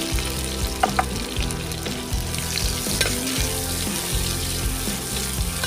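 Chopped onions frying in oil with cinnamon, cardamom and cashews in one pot for mutton biryani, a steady close sizzle with occasional stirring scrapes and clinks throughout.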